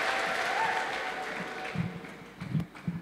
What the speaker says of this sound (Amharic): አጨብጭቡና ተቀመጡ